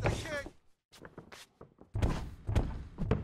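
Punches thud home during a fight in EA Sports UFC 2, a burst of close, heavy impacts in quick succession, sounding over excited commentary.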